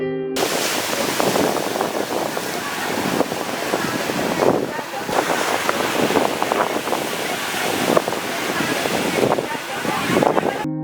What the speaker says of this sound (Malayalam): പഞ്ചായത്ത് റോഡ് ഉണ്ടായിരുന്നിടത്ത് രാക്ഷസ തിരകൾ തലയ്ക്കുകയാണ്